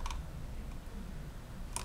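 Soft clicks from typing on a computer keyboard, faint and sparse, a couple of brief bursts a short distance apart in a quiet room.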